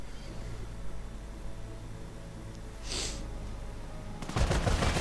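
Bursts of video game gunfire as German Fallschirmjäger paratroopers open up from cover in an ambush, a sharp crack near the middle and a denser rattling volley at the end over a low steady background hum.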